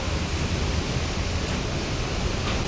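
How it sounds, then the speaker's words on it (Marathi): Heavy monsoon rain pours steadily as a dense, continuous hiss close by, water flooding a new house with no pauses or talk. "मरणाचा पाऊस येतो इकडून."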